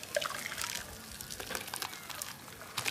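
Vanilla custard studded with vanilla beans runs through a sieve, making a soft, steady liquid trickle with small patters and drips, close by and fairly quiet.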